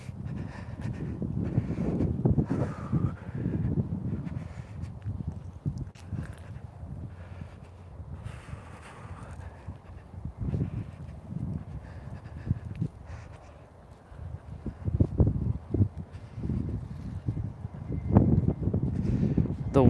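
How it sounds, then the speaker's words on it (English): Gusty wind blows outdoors near a tree, buffeting the microphone with rough low rumbles that rise and fall throughout, stronger bursts toward the end, with someone talking intermittently. "The wind is quite something right now."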